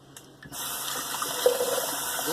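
Tap water runs steadily into a sink while a shaving bowl is rinsed out, a continuous close splashing hiss that starts after a brief quiet moment, with no talking.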